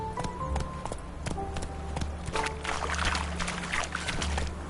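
Roach the horse's hooves clip-clop steadily and close in a video game, a continuous galloping rhythm over a low, rumbling game backdrop with faint tonal music.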